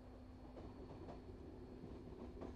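A double-decker train passes in the video game Euro Train Simulator, a quiet, steady rail rumble with faint wheel clatter and a humming tone, heard alone.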